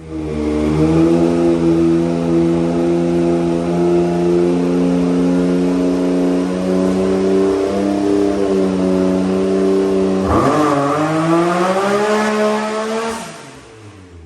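A big-turbo Can-Am X3 side-by-side running on a dyno at over 35 psi of boost: a loud sustained engine drone holding steady, then rising sharply in pitch as it revs higher before cutting off, with no talking.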